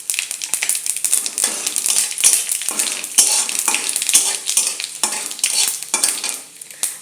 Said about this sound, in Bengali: লঙ্কাগুলোকে একটু লাল করে ভাজবো। দিয়ে দেব তেজপাতা, ফোড়নে দিয়ে দেব 5 ফোড়ন।